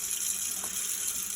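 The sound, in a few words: water from tap filling a cooking pot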